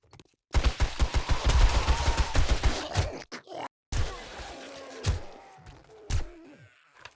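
Rapid bursts of gunfire in 7 Days to Die (Rebirth mod), a dense loud volley for a few seconds followed by several separate heavier shots with gaps between, no talking.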